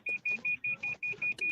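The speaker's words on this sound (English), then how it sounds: "Can we remove the beep beep beep sound?" Repeated electronic beeping, eight short evenly spaced tones in quick succession, loud and steady with faint background noise between them.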